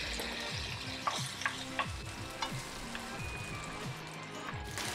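Tomato dropped into a hot frying pan for a healthy lunch, a bright sizzle with sharp crackles and spatters and a few clinks of a utensil against the pan.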